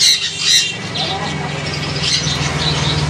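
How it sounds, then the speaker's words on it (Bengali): Sun conure parrots, an adult pair, squawk in shrill repeated calls at close range, with other birds chirping faintly in the background. "এগুলো সানকনুর অ্যাডাল্ট পেয়ার আছে"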